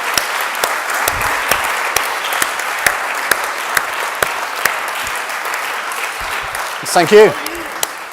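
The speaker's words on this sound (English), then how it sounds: "another customary round of applause to Brigitte, Peter, Serena, Duncan for their fabulous insights" Steady round of audience applause at an entrepreneurs' lecture, sustained crisp clapping throughout, with a brief spoken thanks near the end.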